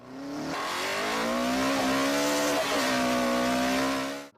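A Honda VTEC engine revs hard and climbs steadily in pitch, holding a loud, sustained wail close by before cutting off abruptly, with no voices over it.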